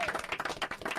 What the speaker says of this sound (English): Everyone in this room will now commence the clapping.